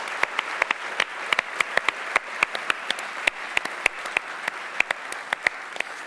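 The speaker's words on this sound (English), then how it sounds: "Let's give her a round of applause." Scattered clapping at an America's Cup presentation, a smaller audience producing distinct individual sharp claps in an uneven rhythm rather than a dense roar.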